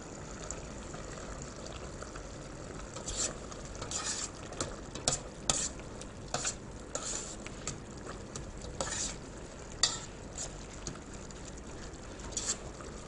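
Stirring a simmering Thai chili paste sauce in a pot, a steady wet bubbling sizzle with repeated scraping, clinking strokes of a utensil against the pot, close and continuous without talk.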